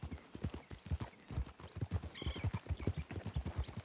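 Hooves of a Dutch warmblood horse in a video game clip-clop in a steady, close walking rhythm with no talk over them.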